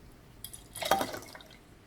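Liquid poured into a mixing container while making homemade glue, a brief faint splashing and trickling burst lasting under a second against a quiet background, with no speech.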